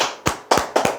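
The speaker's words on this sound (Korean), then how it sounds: "박수 한번 치시죠" An audience at a sales coaching talk claps three times in unison, each clap sharp and loud with brief silence between them.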